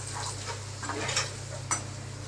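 Eggplant and taro fry in a pan for a fish curry, with a faint sizzle under a low steady hum and scattered clinks and scrapes of a utensil stirring against the pan.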